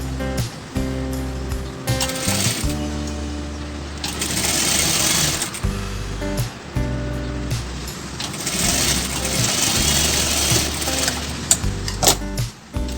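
A sewing machine stitches padded blouse fabric in loud, rapid mechanical bursts, starting and stopping several times with short pauses between runs.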